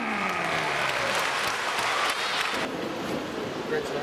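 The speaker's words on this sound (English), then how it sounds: "Please give a big round of applause to Palmerston North Normal Intermediate number 1!" A school audience applauds a winning quiz team, Palmerston North Normal Intermediate number 1, at a children's literature quiz night; dense, steady clapping fills the room for about four seconds, with crowd murmur and some talk underneath.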